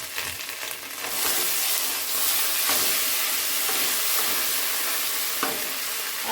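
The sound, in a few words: oil splattering while frying paneer with turmeric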